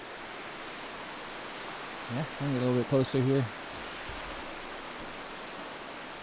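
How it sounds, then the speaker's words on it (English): A big waterfall in Sequoia National Park roars as a constant broadband rush, heard from nearby, while someone talks briefly over it partway through. "But it's a pretty big waterfall."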